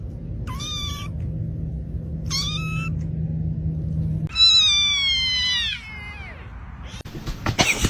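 A kitten meows in several short, high, rising-and-falling cries, two quick ones followed by a longer drawn-out call, over a steady low hum, with a clatter at the end.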